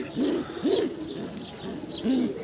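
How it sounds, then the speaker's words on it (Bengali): White racer pigeons coo close by, giving about four soft, rolling coos in a steady rhythm with no talking. "এই যে সাদা রেসার কবুতর।"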